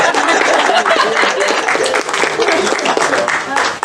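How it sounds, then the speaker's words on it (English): A crowd at a live sideshow performance at an outdoor historical event claps loudly and continuously, with cheering voices and chatter mixed into the dense applause. "Clap, everyone."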